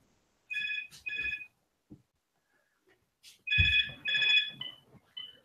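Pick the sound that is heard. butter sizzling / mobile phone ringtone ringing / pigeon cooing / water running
mobile phone ringtone ringing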